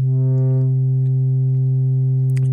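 A steady, loud synthesizer tone from a sine wave in the Massive synth with tube-style drive adding a stack of harmonics, sustained evenly throughout with brief clicks near the end.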